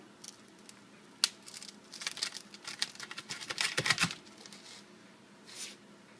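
A knife cuts open a freshly grilled calzone stuffed with melted cheese, vegetables and pepperoni, giving soft crunching and crackling crust sounds in quiet, irregular bursts, close and fairly faint.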